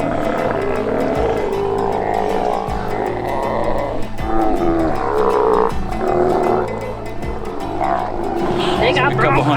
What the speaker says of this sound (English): They got a couple hundred bronchitis. sea lions right there. Just burping.